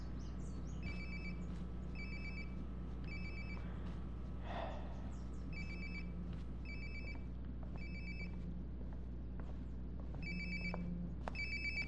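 A phone rings repeatedly in Life is Strange: Before the Storm, with steady bursts of electronic ringing at regular intervals over a constant low hum and no talking.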